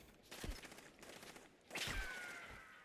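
Assault rifle fire in a video game: a few separate bursts of shots at moderate distance, spaced over a few seconds, with a ringing whine trailing the last burst.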